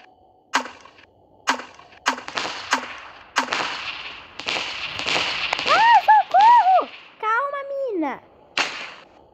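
Gunfire in the Melon Playground sandbox game: about seven sharp, loud cracks at irregular intervals, with a brief squealing, voice-like cry between the later shots.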